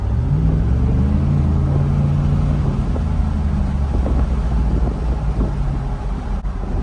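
A 2018 Chevrolet Silverado pickup with its muffler deleted cruises steadily at 53 mph, giving a continuous low, even exhaust and road drone with wind noise and no revving.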